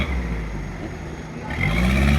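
A Toyota 4x4's engine idles with a low rumble at an off-road mud race track, then revs up, rising in pitch and loudness toward the end.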